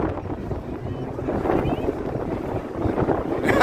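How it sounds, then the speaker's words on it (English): Wind buffets the microphone outdoors on a city street near Wrigley Field, a continuous loud rumbling blast under faint background voices and street noise. "Very windy today."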